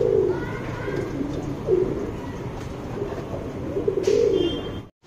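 Tournament racing pigeons coo repeatedly and close by in a loft, a steady run of soft low calls over a busy background of other birds, ending with a brief handling noise.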